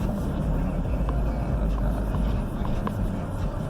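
Jeep SRT8 fitted with a Pedal Commander throttle controller, engine droning as it accelerates, a steady heavy rumble heard from inside the cabin.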